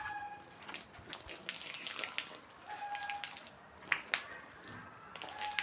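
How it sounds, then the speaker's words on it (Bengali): Water from a pump motor hoses down the floor of a poultry shed on a farm, a steady splashing and trickling wash with scattered sharper drips and spatters, fairly faint throughout. "এই যে মোটর পানি দিয়ে আমরা আস্তে আস্তে আস্তে ঘরটা পরিষ্কার করবো"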